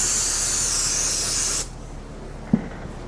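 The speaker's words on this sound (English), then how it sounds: "I'm just using some shop grade Windex, aka brake parts cleaner." Brake parts cleaner sprays onto the clutch of a 2022 Polaris Sportsman 570 ATV in a loud, close hiss that lasts about a second and a half, stops abruptly, and is followed by one small knock.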